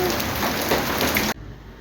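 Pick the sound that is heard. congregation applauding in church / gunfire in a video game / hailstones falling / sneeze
hailstones falling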